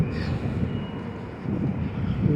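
Train rolling past at Hudson Yards in New York, a steady low rumble with wheel noise and some wind buffeting, fairly close and continuous throughout.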